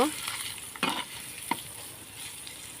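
Eggs frying with salt in a pan, a continuous soft sizzle broken by a couple of sharp spatula scrapes and taps near the start and middle.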